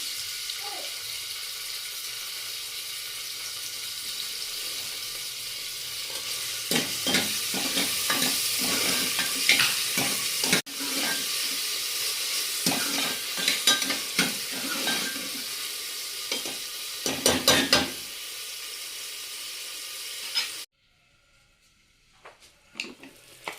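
Onion and chopped tomato fry in a pan for a spicy mutton curry, with a steady close sizzle and repeated scraping stirs that end abruptly, leaving only quiet room sound.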